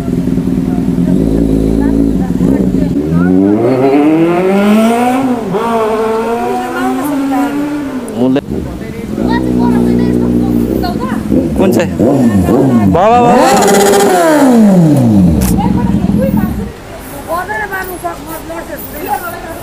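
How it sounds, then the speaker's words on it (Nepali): A Kawasaki Z800 motorcycle revs loudly and close in repeated rising and falling sweeps, with the engine pitch climbing and dropping several times before easing off. Voices can be heard in the background. "Kawasaki Z800."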